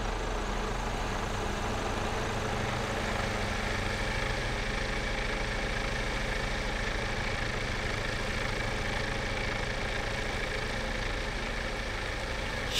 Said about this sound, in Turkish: Şıkır şıkır çalışıyor aracımız.